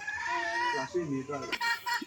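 Native chickens clucking in a small farm coop with plastic netting walls, several close, tonal calls in quick succession over a couple of seconds.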